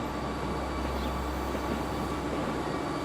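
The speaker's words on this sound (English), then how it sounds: "We've got a train going out over the top." A train running in the Transport Fever 2 game, a steady low rolling rumble of rail traffic heard continuously throughout, moderately loud with no voices.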